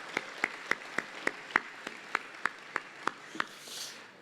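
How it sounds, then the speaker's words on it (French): Slow, evenly spaced claps at a gathering of mayors, about a dozen sharp hand claps in a steady rhythm, fairly faint and distant, ending in a soft rustle of murmuring. "Ça fait du bien de s'applaudir un petit peu"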